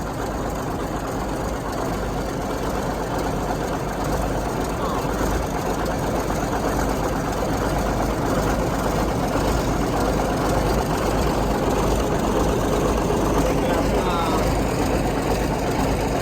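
A rebuilt Cummins 444 diesel engine in an International Eagle truck runs at a steady, loud, continuous rumble and clatter, as if heard from inside the cab while driving down the road.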